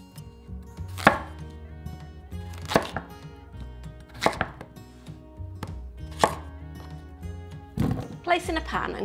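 Red-skinned rooster potatoes being chopped into chunky pieces with a knife, about five sharp, evenly spaced thuds against a board, close and clear.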